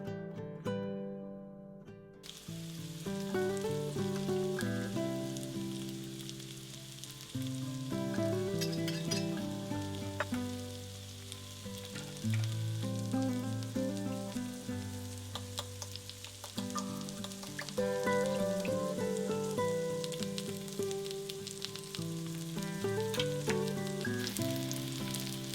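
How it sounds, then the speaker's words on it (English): Zucchini toasting in hot oil in a skillet sizzles softly and continuously beneath prominent background music, with no talking. "Now in a heated skillet with oil hot, I put all the zucchini in and I'm going to toast it till it's golden on both sides."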